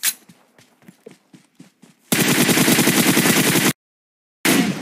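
Video game gunfire: a few scattered single shots, then a dense sustained burst of rapid automatic fire, a sudden silence, and another loud burst starting at the end.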